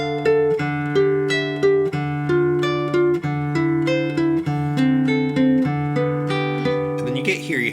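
Guitar playing both interval parts of a song together, a ringing melodic riff of picked notes over sustained lower strings, clear and close, with no talking.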